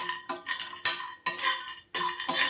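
Almonds dry roasting in a pan, with several bursts of scraping and clinking as a utensil stirs them against the metal, separated by brief pauses.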